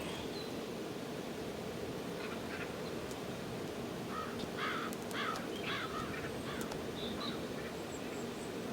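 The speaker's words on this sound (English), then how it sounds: "He turned into a bird?" Bird cawing inside the Tears of Themis video game, a few faint, rasping caws repeated over a steady background hum, with no one talking.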